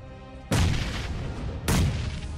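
Grenades go off in PUBG Mobile during a fight near a house. Two sharp, booming blasts come roughly a second apart, each trailing off into a low rumble over quieter game ambience, with no talking.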